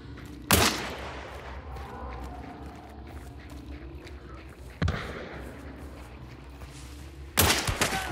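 Gunshots in the video game Hunt: Showdown ring out as three sharp, loud single reports spaced a few seconds apart, each with a short echoing tail over quiet ambient swamp background.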